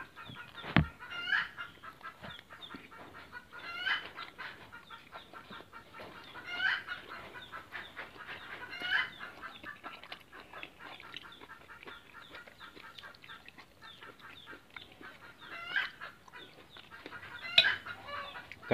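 Free-ranging laying hens cluck and squawk around a Thai countryside kitchen, with repeated bursts of clucking and a brief crow-like call rising over a quieter backdrop across the whole stretch.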